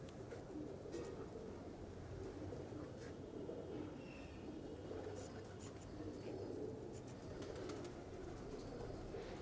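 A pigeon brought from Dubai coos softly against a constant dense background of outdoor noise, with faint intermittent sharper sounds above it; no voices are heard.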